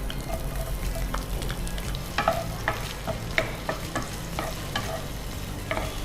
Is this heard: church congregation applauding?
no